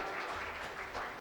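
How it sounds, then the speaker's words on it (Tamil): A crowd applauds to welcome a speaker onto the stage at a festival debate event, a dense, steady wash of clapping filling the short moment. "பெருமதிப்பிற்குரிய திரு ஆகாஷ் அவர்களை உங்களது கைத்தட்டல் கிடையே அழைக்கிறேன்."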